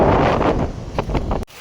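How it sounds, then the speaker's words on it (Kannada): Strong gusting wind buffets the microphone outdoors ahead of a rainstorm, a loud broadband roar that surges and dips for about a second and a half before cutting off abruptly. "ಸಿಕ್ಕಾಪಟ್ಟೆ ಜೋರು ಗಾಳಿ ಏನೋ ಬೀಸ್ತಾ ಇದೆ"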